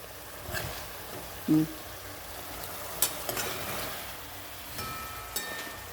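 Mutton frying in a pan during an outdoor cooking session, with a soft continuous sizzle, faint stirring scrapes and a couple of brief knocks, fairly quiet and with no talking.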